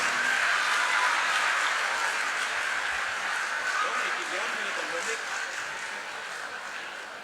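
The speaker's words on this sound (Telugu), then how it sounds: "గట్టిగా చప్పట్లతో పైకి ఆహ్వానిద్దాం" Audience applause welcoming a guest onto the stage at a college inaugural session, a steady broadband wash of many hands clapping that stays loud and slowly fades over several seconds.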